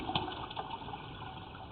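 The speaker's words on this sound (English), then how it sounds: "We've got water coming right behind us right now." Water runs through a concrete sewer pipe with a steady hollow rushing and gurgling, moderately quiet and echoing, with no voices.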